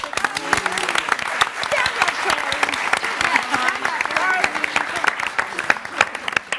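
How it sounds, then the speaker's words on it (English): A large audience at a PaleyFest 2013 panel on The Walking Dead applauds steadily and enthusiastically, with loud sustained clapping and scattered cheers while voices talk over the crowd. "I'm never going to stop clapping."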